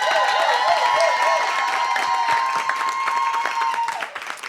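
A crowd at a festival contest applauds and cheers in a steady, dense wash of clapping that lasts throughout, with sustained tonal sounds running through it and fading near the end.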